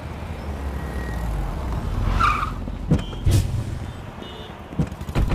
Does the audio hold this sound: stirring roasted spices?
no